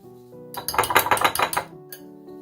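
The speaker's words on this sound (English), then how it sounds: "So whisk that until it's smooth." Butter, flour and powdered sugar whisked in a bowl: a quick burst of rhythmic, clattering whisk strokes against the bowl, close and loud, between quieter moments.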